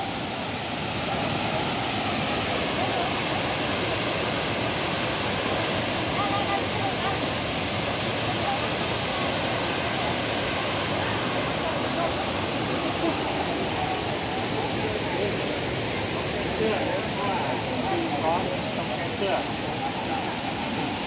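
A waterfall in Taipei sends out a constant, dense rushing roar of falling water. The sound is even and loud from start to finish, with no breaks.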